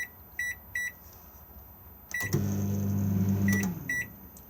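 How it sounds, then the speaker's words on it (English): Short electronic beeps from a microwave in a Swift Bolero 630 PR motorhome, then its low humming run starts, followed by more quick beeps. "And then we have the microwave just here."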